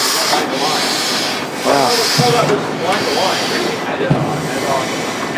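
Compressed air hisses loudly and steadily while starting a 1918 Alberger tandem museum engine, with a few thumps and knocks partway through and voices talking over it.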